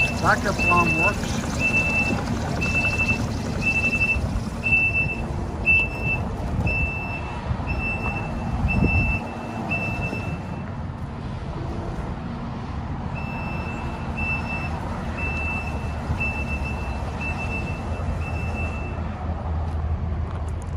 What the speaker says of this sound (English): Backup alarm works.